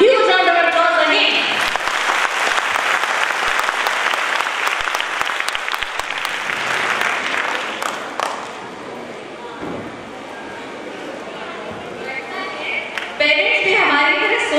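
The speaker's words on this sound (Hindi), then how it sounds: "please give them a huge round of applause again" Loud applause from an audience for young children performers at a stage show, sustained dense clapping with some voices mixed in, tapering slightly before swelling again near the end.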